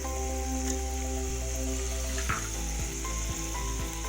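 Meat fries in a pot as tomatoes go in, making a constant sizzle over a steady low electrical hum, with a brief splash and a few soft stirring sounds close by.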